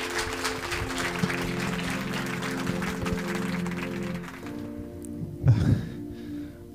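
A church congregation applauds in a dense, reverberant wash over a low steady hum for about four seconds, then the clapping drops away, leaving a quieter room with a brief rustle near the end.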